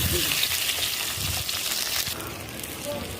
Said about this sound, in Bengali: তেল গরম হয়ে গেল, দেখো পেঁয়াজ, রসুন আর কাঁচামরিচ তেলে